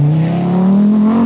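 Mikkola's Audi Quattro rally car at speed on the 1981 RAC Rally, a loud, close engine note held steady and slowly climbing in pitch as it accelerates.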